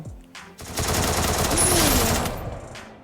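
A loud burst of automatic gunfire in the battle royale game Free Fire rises after a brief pause and rattles steadily for about two seconds before tapering off, with no talking over it.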